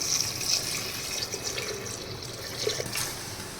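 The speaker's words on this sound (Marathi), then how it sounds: "इथे छान फ्राय झाल्यानंतर इथे मी पाणी ओतून घेत आहे" Water pours into a pan of fried mutton masala for a spicy mutton curry, a steady splashing rush that carries on for several seconds, close and moderately loud, with no talking.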